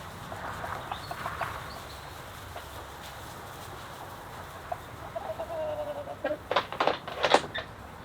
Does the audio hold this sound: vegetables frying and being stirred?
no